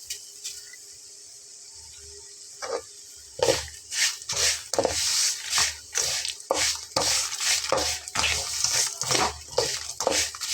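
Black cumin is stirred into fried garlic in a hot pan, with a quiet start giving way to repeated wet scraping and sizzling bursts in an uneven rhythm, close and clear.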